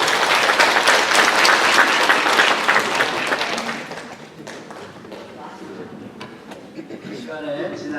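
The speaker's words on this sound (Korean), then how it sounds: "박수" Congregation applause after a church prayer fills the space with dense, continuous clapping for about four seconds, then thins and fades while a voice begins speaking over the tail.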